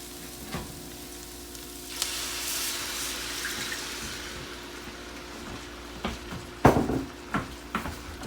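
Chicken stock poured into a hot pan of one-pan jambalaya, a soft steady sizzle and hiss of liquid hitting the hot pan, followed by a few light clinks and splashes as the mixture settles.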